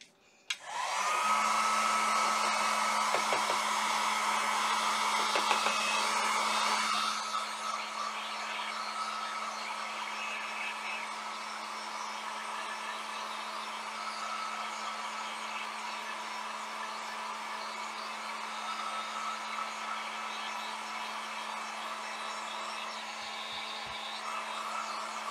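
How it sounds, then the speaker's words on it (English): A heat gun dries chalk paste on an Easter home decor piece, its loud steady whoosh blowing nonstop for the whole span, slightly louder at first and then settling into a constant hum. "I'm going to use my heat gun on it to dry it a bit"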